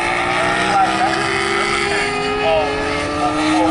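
A 400cc racing motorcycle in a BMCRC Formula 400 race at Snetterton holds a steady high engine drone that shifts pitch through a gear change as it crosses the finish line, with a commentator talking over it.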